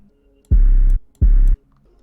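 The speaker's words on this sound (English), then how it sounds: "I followed that with this Bull 808." A Bull 808 bass in a beat hits twice in a row, each note deep, booming and sustained for about half a second with a short gap between, loud and alone without talk.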